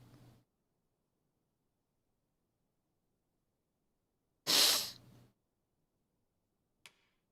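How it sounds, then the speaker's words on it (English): A single sneeze bursts out loud and close after near silence, a sharp breathy explosion of air lasting under a second, followed later by a tiny click. "I'm about to sneeze."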